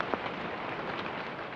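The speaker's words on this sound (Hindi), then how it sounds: "ये एक लाइट रेन का साउंड है" Light rain falling as a sound effect, a steady soft hiss of drops with no voices or other sounds.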